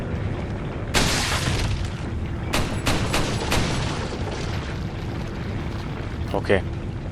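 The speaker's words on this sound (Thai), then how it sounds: "วางระเบิดไดนาไมท์นะครับ" Several loud, sharp dynamite blasts go off in quick succession in the video game Resident Evil 4, with booming rumbles beneath them and a steady background din throughout.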